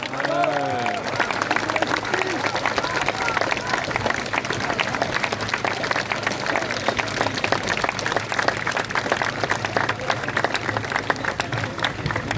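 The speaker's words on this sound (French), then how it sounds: "je vous demande un tonnerre d'applaudissements pour Maître Carlo Alberto Brusa" A crowd at a Frexit rally gives thunderous applause, loud sustained clapping mixed with cheering voices that keeps an even, energetic level throughout.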